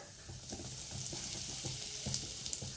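Cumin seeds and asafoetida tempering in hot oil, a quiet steady sizzle with soft rhythmic scraping and stirring taps, close by and without any speech.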